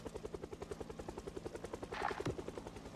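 A helicopter flies in the Project Zomboid video game. Its rotor beats in a fast, even, pulsing thump that runs the whole time at moderate distance, with a brief louder whoosh near the end.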